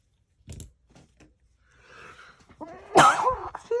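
Someone with allergies lets out a sharp sneeze close by, preceded by a few small sniffs and quiet rustles in an otherwise hushed room.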